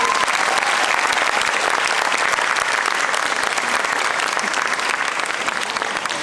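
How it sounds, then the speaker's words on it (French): Concert audience applauding a choir conductor, steady, dense clapping from a large crowd held at an even level throughout. "On peut l'applaudir."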